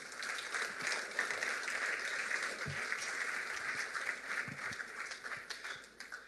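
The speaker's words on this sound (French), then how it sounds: "Vous pouvez l'applaudir." Audience applause at an Airbus operations event, a dense steady crackle of many hands clapping through the whole stretch at moderate level, thinning slightly near the end.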